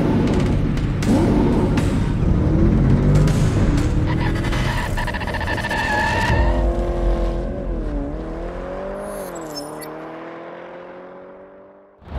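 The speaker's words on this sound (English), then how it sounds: "This is a 2019 Mercedes-Benz AMG GT53 four-door coupe." A 2019 Mercedes-Benz AMG GT 53 four-door coupe driving, its engine roaring loudly with rising and falling tones as it accelerates and shifts, heard close and continuous before fading near the end.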